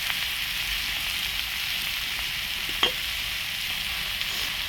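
Broad beans frying in a pan with garlic and chilli powder as coriander goes in, a steady soft sizzle throughout with one brief sharp scrape or clink near the middle.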